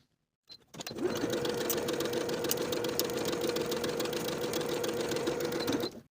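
A sewing machine stitches the seam of a denim skirt, starting after a brief pause and running as a steady, close, mechanical whir until the end, with no voices.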